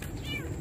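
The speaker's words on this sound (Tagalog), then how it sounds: "May kuting!" A kitten gives a single short, rising-and-falling meow, close by, over a steady low background hum.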